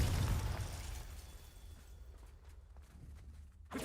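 Fire spell blast from the Hogwarts Legacy video game, heard as a loud low rumbling burst at the start that fades into a quieter crackling tail, with a sharp pop near the end.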